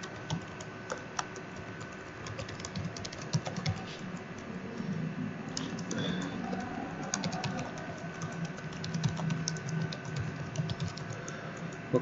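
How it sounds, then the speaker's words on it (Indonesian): Username and password being typed on a computer keyboard, a steady stream of light, close key clicks in an uneven rhythm that lasts about twelve seconds, with no voices. "Kita coba ketikkan username terus passwordnya."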